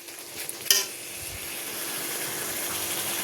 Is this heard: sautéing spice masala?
yes